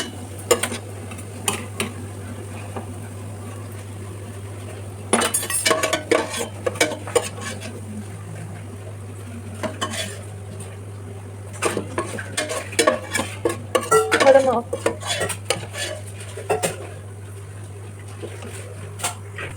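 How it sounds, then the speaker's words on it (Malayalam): Onions for biryani are stirred in a pan with a metal spatula, irregular bursts of scraping and clanking over a faint sizzle and a steady low hum, with no speech. "നല്ലോണം വഴറ്റി ഗോൾഡൻ ബ്രൗൺ കളർ വരെ ആക്കി എടുക്കണം."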